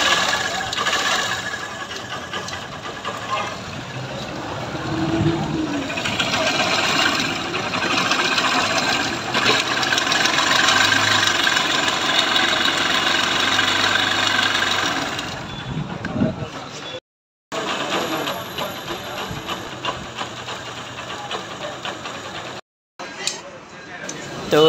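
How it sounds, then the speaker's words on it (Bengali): A Honda Trigger motorcycle engine idles with an abnormal mechanical sound, a fast, busy ticking clatter running steadily and close for most of the clip before brief gaps. "তো এই তো বাইকটির সাউন্ড শুনলেন"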